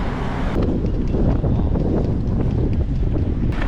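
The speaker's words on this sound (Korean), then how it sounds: "바람 진짜 세다" Steady, heavy wind buffeting a microphone while cycling near Guildford, England, a loud continuous roar with no breaks and no voices.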